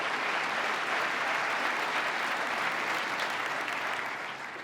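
Steady applause from a large audience honoring Court of Appeals judges at a governor's state agenda address, a dense continuous wash of clapping held at even strength and easing slightly at the end.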